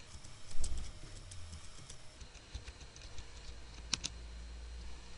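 Computer keyboard being typed on to enter a web address, a scattering of light, sparse key clicks with a louder pair of taps near the end over low room hum.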